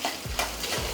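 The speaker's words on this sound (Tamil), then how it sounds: "இஞ்சி துருவல் இதிலே நல்லா முருகட்டும்." Grated ginger frying in hot oil, a close, continuous sizzle with light stirring scrapes, alone without talk.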